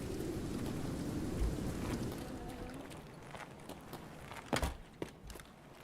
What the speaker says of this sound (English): how loud that rain was makes it very difficult to hear if anyone is nearby